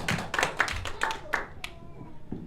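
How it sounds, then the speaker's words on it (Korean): A church congregation welcomes a guest speaker with a short burst of distinct, fairly sparse hand claps that thin out and stop within a couple of seconds. "우리 한번 박수로 환영하시겠습니다."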